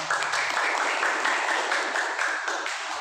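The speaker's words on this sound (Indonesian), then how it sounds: "Silakan tepuk tangan buat kalian semua." An audience at an entrepreneurship study gathering claps steadily, a full, continuous round of applause from many people, close and fairly loud throughout.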